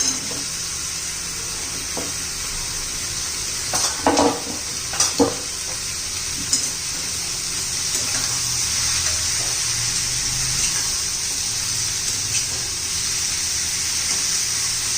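Pieces of bottle gourd hit a hot pan, giving a steady close sizzle that lasts throughout, with a few brief clatters and stirring knocks near the start.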